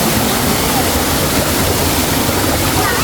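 A waterfall roars as a dense, constant wash of rushing water, loud and close, filling the clip throughout.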